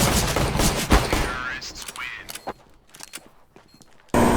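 Gunfire in a competitive shooter game, several sharp shots early then scattered bursts, mixed with game sounds and people talking.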